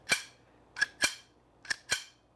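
A Beretta APX CO2 airsoft pistol is dry fired without gas, giving five sharp, close mechanical clunks in an uneven rhythm against near silence.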